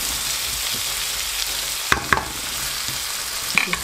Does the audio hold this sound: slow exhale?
no